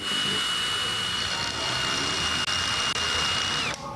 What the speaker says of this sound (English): What are you doing? Drilling.